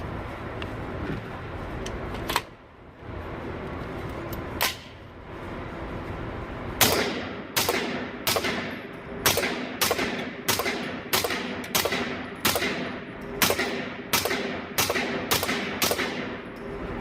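A suppressed Sig MPX SBR fires 158-grain rounds in a steady string of about ten sharp, close reports roughly a second apart, after two or three isolated earlier shots, with no talk.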